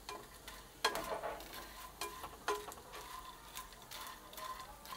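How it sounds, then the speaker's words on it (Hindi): Edible gum (gond) frying in a pan and stirred with a spoon gives soft, faint sizzling and several sharp spoon scrapes and taps against the pan, with no voices. "और चम्मच इसमें रेगुलर चलाते रहें ताकि इसकी जो साइड हैं वो चेंज हो जाएं।"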